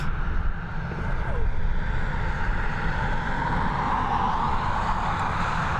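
An Airbus A320 airliner rumbles at Dublin Airport, a broad steady jet roar that holds loud and constant throughout, with a faint voice briefly in the background.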